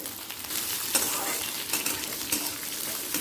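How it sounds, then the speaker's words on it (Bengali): Soaked, dried chana dal and peanuts fry in hot oil, a steady close sizzle with occasional brighter pops and stirring scrapes, loud and continuous without any talking. "তিরিশ সেকেন্ড ছোলা আর বাদামটাকে ভেজে নেওয়ার পর"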